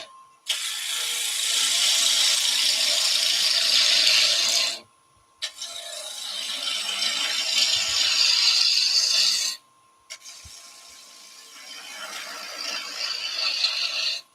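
A small bowl gouge cuts waste wood away on a lathe, making a loud continuous rasping, scraping hiss in three long passes separated by brief pauses, with no talk.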